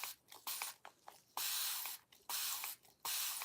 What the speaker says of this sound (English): I'm doing spraying some paint in here.